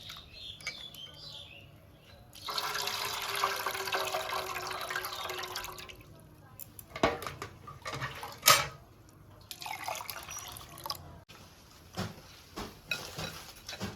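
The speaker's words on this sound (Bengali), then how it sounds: "ডালটা 2-3 বার ভালোভাবে ধুতে হবে।" Lentils are washed in a pot of water, with a rush of running water followed by intermittent splashing, sloshing and drips, close and fairly quiet, with pauses between bursts and no talking.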